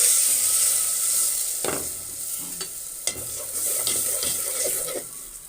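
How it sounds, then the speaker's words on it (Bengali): A spice paste mixed with water fries in a pan with chopped chillies and onion, giving a close, steady sizzle under repeated stirring scrapes and a few sharper clatters. "এবার আমি দিয়ে দিব মশলাগুলি যে পানি দিয়ে গুলে রেখেছিলাম এইগুলি।"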